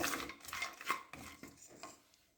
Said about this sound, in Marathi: काजूचे तुकडे थोडेसे बेदाणे घालून थोडेसे व्यवस्थित हलवून भाजून घेऊ